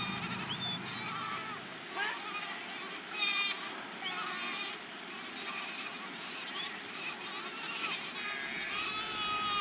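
A herd of cashmere goats bleats repeatedly, many overlapping calls near and far over a low outdoor hum, with faint voices at times.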